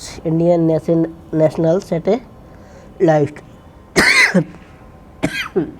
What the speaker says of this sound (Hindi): खांसी ज़्यादा हो रही है आज।